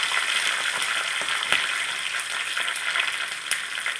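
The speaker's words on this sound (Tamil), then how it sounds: "அடுப்பை ஆஃப் பண்ணிவிட்டு நீங்கள் கருவேப்பிலை போடுங்க" Curry leaves sizzle in hot oil in a pan with the heat switched off, for mango pickle; a steady, loud crackling fry runs throughout with brief pops, no voices.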